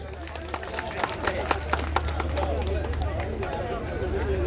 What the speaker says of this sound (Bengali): করে জোরে একটি হাত তালি।